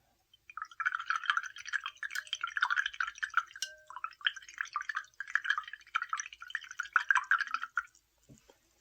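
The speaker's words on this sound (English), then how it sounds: "Let's wash out this color." A face paint brush swishes and clinks in a cup of rinse water for a few seconds, a close, soft, continuous splashing and dripping that pauses briefly midway, then resumes before ending with a light tap.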